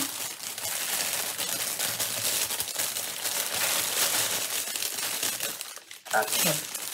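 Steady crinkling and rustling of paper being handled and unfolded, close by, ending with a brief shuffle and a faint voice.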